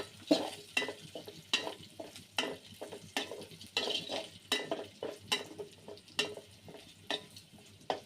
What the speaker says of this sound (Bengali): এই পর্যায়ে আমি এর মধ্যে পাঁচফোড়ন দিয়ে দিলাম।